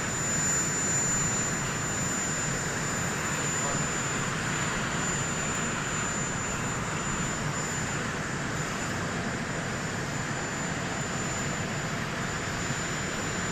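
Jet engines of Air Force One running steadily near a helicopter landing spot, a loud continuous broadband roar with a high whine on top that holds level throughout.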